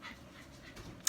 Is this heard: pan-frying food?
no